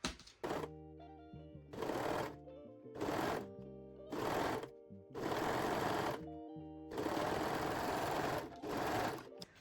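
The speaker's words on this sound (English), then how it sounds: "we can sew this seam using a serger or zigzag stitch" A serger sewing machine stitching a seam on lingerie fabric, running in loud, close mechanical bursts of one to two seconds, separated by short pauses, with a steady rapid whir during each run.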